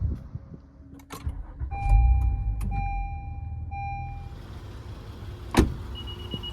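A 2014 Honda Accord engine cranks and catches, then settles into a smooth, steady idle, with steady electronic tones sounding alongside.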